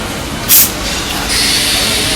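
A passenger train riding toward Pallavaram in Chennai: a steady rumbling hiss of carriage and rail noise, with a brief louder whoosh near the start and a rise in hissing toward the end.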